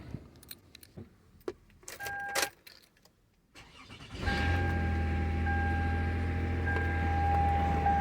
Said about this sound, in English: now the car is running